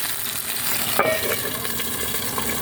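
Water boils and sizzles in a pan while crabs cook, a steady close bubbling hiss with a brief clink near the middle, no talking.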